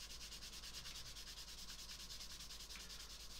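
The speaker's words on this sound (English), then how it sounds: "I'm just going to give it a light polish over with this" Steady, even rubbing of a light polish over the seams of a 1/72 scale Tamiya F-14D plastic model kit, a continuous close, soft abrasive hiss with a fast repeating stroke rhythm and no talking.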